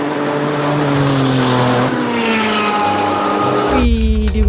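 Toy bus rolling and driving, giving a loud, close whirring rumble that shifts in pitch across a few seconds, ending with a brief rougher burst.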